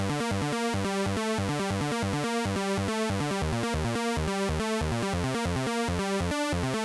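A thick, buzzing wavetable synthesizer tone in classic unison mode with 30% detune plays a steady run of rapid repeated notes, wide and slightly chorused, loud and continuous with no pauses.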